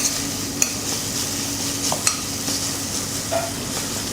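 Onions softening in a pan, a soft continuous sizzle with occasional light clicks and utensil taps, close and without voices.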